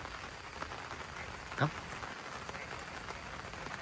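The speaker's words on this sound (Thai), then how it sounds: "ฝน ตกแล้ว" Steady rain falling after a night-long downpour, a dense hiss of drops on surfaces with one brief louder splash or knock midway; a frog may croak faintly in the background.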